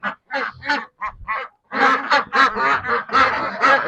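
Ducks on a farm quacking in a busy, overlapping flurry of calls, close by, with short bursts at first and then a denser run of quacks.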